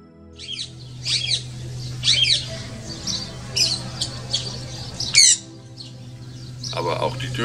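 Birds in a bird park in Waghäusel, Baden-Württemberg, let out sharp squawks and chirps at scattered intervals over a steady low hum, with faint talk in the background.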